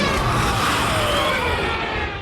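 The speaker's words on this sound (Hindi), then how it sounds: "Ju-87 जब भी बॉम्ब गिराने के लिए जमीन की तरफ डाइव करता था तो हवा के प्रेशर की वजह से इस सायरन से एक खौफनाक आवाज आती थी।" Ju-87 Stuka dive bomber's wind-driven siren, a loud, continuous howling scream sweeping slowly downward in pitch over a roaring rush of noise, heard alone.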